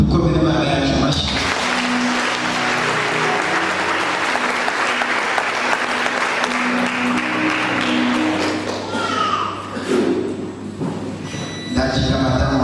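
A church congregation in Burundi applauding to welcome someone, a loud, sustained burst of many clapping hands lasting several seconds before tapering off, with voices rising over the tail end.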